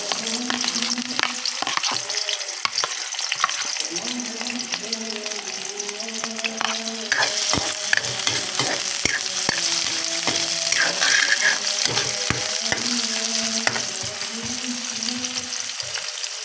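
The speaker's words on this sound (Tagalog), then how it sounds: "Lutuin muna natin yung sibuyas bago tayo mag-add ng bawang at luya." Onions frying in a pan for octopus and squid adobo, sizzling steadily while a utensil scrapes and stirs in repeated bursts, close and clear with no talking.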